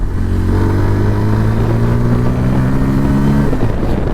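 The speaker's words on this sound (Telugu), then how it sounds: "ఒకసారి దీన్ని బీటింగ్ చూస్తారా" A 2024 Bajaj Pulsar N150 motorcycle with a 149.9 cc single-cylinder engine idles and revs in a steady, loud, close burble for about four seconds, with no talking.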